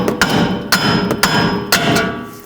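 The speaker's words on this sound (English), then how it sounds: "we can take a hammer, just hammer the bearing, walk it back and forth until it comes out of the knuckle." A hammer strikes a rusted wheel bearing hub in the steering knuckle of a 2007-2009 Saturn Aura, giving four loud, sharp metallic blows spaced about half a second apart, close by with ringing between hits.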